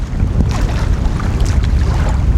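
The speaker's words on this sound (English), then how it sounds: "The wind is wicked." Strong wind blows beside a choppy lake, buffeting the microphone with a loud, continuous low roar and gusty rumble, with no voices.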